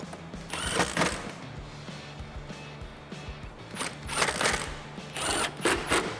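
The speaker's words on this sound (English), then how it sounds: "Now you can grab your socket and tighten them down." A socket wrench tightening the mounting bolts of aftermarket dual halo LED projector headlights on a 2004-2008 Ford F150, heard as close, repeated ratcheting clicks and metallic clatter in uneven bursts.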